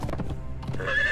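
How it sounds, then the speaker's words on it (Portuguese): A horse in the video game Conan Exiles gives a short, bright whinny along with quick hoof clip-clops, all within about a second and with no speech. "O cavalo da gente às vezes gosta de pular."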